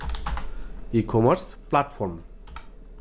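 Search terms typed on a computer keyboard, a short run of light key clicks mixed in and around someone talking in Bengali.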